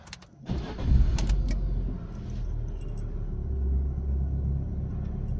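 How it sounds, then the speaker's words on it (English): A Fiat 500 engine cranks and catches, then settles into a steady, close idle rumble that runs on alone to the end. "Now let's start the car."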